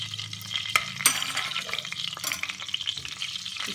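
Desi ghee heats and sizzles steadily in a kadhai with occasional clinks and scraping from stirring, close by and without speech.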